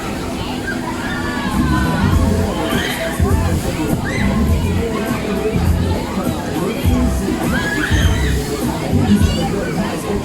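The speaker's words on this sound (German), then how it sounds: "Jetzt schon schreien, dann wird's jetzt richtig schlimm" Riders scream and shout together aboard the Turbine, a spinning fairground ride at the Rees Kirmes funfair, a dense, loud crowd roar with rushing whooshes that holds steady throughout, no single voice standing out.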